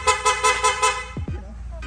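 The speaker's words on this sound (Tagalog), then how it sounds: "Ang busina, loud horn." A loud PIAA horn fitted to a Honda Winner X motorcycle blasts in four or five rapid pulses, then cuts off with a brief low electrical drop as the engine-area hum continues.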